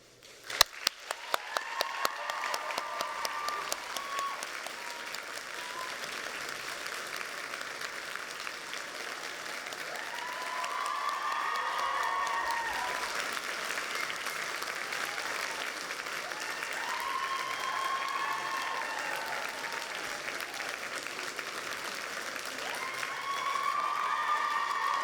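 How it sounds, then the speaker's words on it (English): Sustained audience applause at a University of Aberdeen summer graduation ceremony, opening with a few sharp claps and then swelling into a dense, even ovation with occasional cheers, lasting about twenty-five seconds. "this we loudly and wholeheartedly applaud to you all"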